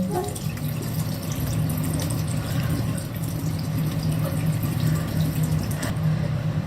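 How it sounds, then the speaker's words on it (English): Warm running water pours steadily from a tap with soft splashing as a face is rinsed, at low level, with a faint hum underneath and no talking. "I'm going to take some warm water and rinse off."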